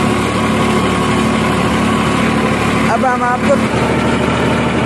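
A New Holland 3510 tractor engine runs steadily while pulling a 10-foot rotavator, a continuous mid-to-low drone throughout, with a voice speaking briefly over it.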